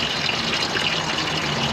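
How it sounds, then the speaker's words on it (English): Rusty coolant pours steadily from the lower hose of a 1970 Ford Falcon engine block into a drain pan, a continuous loud gushing splash with no pauses. "Lower hose is draining all the fluids out of the block, all the rusty coolant."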